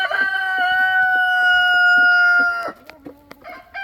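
A rooster crows loudly and close, a long drawn-out call, followed by scattered clucking from nearby chickens.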